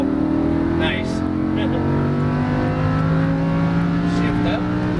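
A Lamborghini Huracan engine drones steadily and loudly on a race track, holding a rising tone with no break as it accelerates out of a corner, while a voice speaks over the engine.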